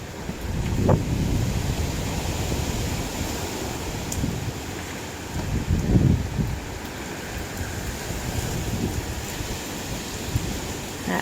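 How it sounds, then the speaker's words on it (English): Hurricane Ian's wind roars in big gusts, a constant loud outdoor rush that swells and buffets the microphone with low rumbling surges, while no one speaks. "These big gusts."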